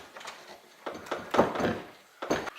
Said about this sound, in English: The door, you can see, doesn't open. It has to be forced to open.